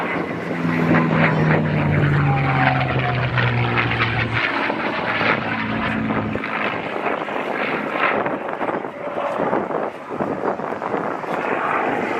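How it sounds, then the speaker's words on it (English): F-15 Eagle fighter jets of the Louisiana Air National Guard preparing for takeoff at an airshow, a loud, steady engine roar with a falling whine, heavy wind buffeting on the microphone throughout. "See the F-15 Eagles as they prepare to do their takeoff."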